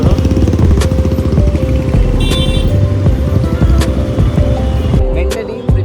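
A group of motorcycles setting off at the start of a Republic Day biking festival ride in Kolkata, loud continuous engine roar close by with a short horn toot partway through, traffic noise throughout.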